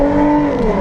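Car fitted with a wide body kit driving, its engine a steady, loud, close drone holding an even pitch through a brief moment, with no voices.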